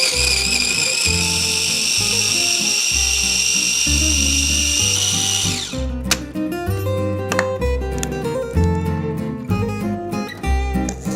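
A blender purees garlic, whining at a high steady pitch for several seconds before the motor drops and the contents churn and clatter in uneven bursts, loud and close.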